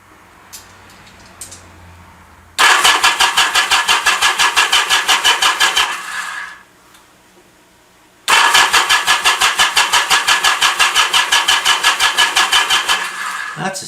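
A Yamaha Commando motorcycle engine is cranked with the starter in two long bursts, each a steady rapid chugging that never catches or fires, separated by a short quiet pause.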